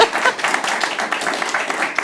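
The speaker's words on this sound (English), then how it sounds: "clap for Paul as well" Audience clapping at a climate discussion event in Glasgow, a dense, even patter of many hands that holds steady throughout at moderate loudness.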